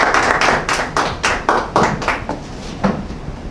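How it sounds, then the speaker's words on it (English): A small audience at a morning training session gives a brief round of clapping, the individual claps distinct and loud, coming in uneven bursts that taper off over a few seconds. "A round of applause once again."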